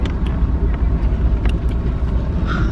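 Bus engine drumming low and steady while riding through Vietnam near Cat Ba, a constant heavy rumble with road noise and a few brief knocks, with a voice faintly talking over it.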